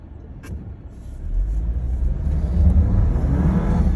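A Jeep Wrangler JL engine revs up in snow with traction control off, its low roar building steadily and growing louder over a few seconds, heard from inside the vehicle.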